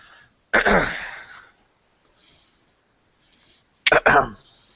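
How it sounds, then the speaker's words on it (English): Two sharp, forceful coughs come close to the microphone on a gaming podcast, separated by a few seconds of near silence with a faint murmur between them. "Cough, cough."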